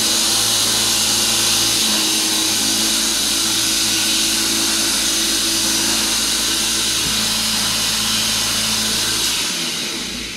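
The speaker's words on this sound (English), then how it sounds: "there you just heard the pump cut in" A Nextwave toilet pump motor with brushes runs near and loud, giving a steady electric hum and whine that holds for about nine seconds before winding down at the end.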